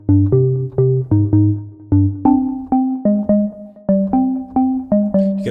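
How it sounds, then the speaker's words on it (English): A synthesizer bass organ preset plays a short riff of punchy, sustained low notes with organ-like tone, each note struck cleanly and decaying, loud and alone. "Bass organ."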